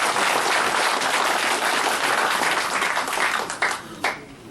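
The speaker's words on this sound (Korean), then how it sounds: "다시 한번 우리와 같은 박수로" Loud, sustained crowd applause at a political rally fills the air as a dense wash of claps, thinning slightly with a few distinct bursts near the end.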